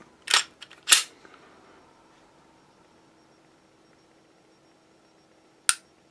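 Dry-fire trigger pull on a Glock 43X pistol, with a couple of sharp, close mechanical clicks near the start and another crisp click several seconds later, set against near silence.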